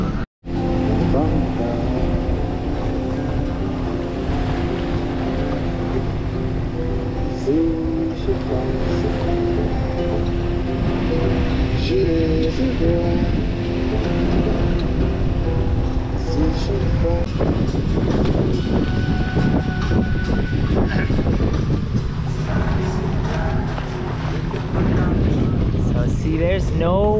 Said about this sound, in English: There's almost no wind either. We're motoring just so we can get there and enjoy the day. Gotta use that diesel motor sometimes.